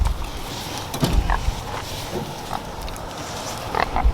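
Farm pigs grunting at a feeder being refilled with feed, several short close oinks and snorts scattered irregularly over a background of creaks and rustling.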